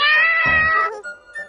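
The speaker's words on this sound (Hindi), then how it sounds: "प्यारी बिल्ली है" A cat lets out one loud, drawn-out meow close by, followed by a couple of faint, short mews.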